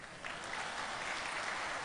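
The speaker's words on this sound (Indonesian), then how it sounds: "Tepuk tangan." Faint, steady applause from a seminar audience, heard at a distance and fairly quiet throughout the short clip.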